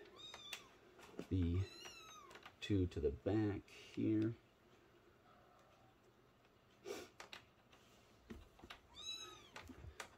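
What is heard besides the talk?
kittens meowing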